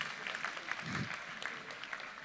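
A conference audience applauds faintly and steadily while presenters take their places, a soft, distant wash of many hands clapping with no break.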